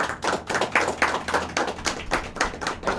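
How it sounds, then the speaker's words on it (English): Applause for a club's incoming executive team at a Toastmasters installation, a run of fairly steady, sparse hand claps from a small group, moderately close, with no talk over it. "Let's give a round of applause."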